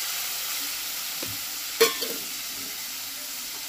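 Ground masala paste of onion, garlic, ginger, tomato and green chilli sizzles in a pan with a steady hiss and a single sharp burst partway through, followed by faint stirring.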